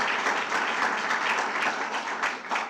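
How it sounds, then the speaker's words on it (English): Audience applause for the president of the Friends of Honan Library at a community room dedication, a steady dense wash of many hands clapping throughout. "How about a round of applause for Paula, the president of the Friends of Honan Library."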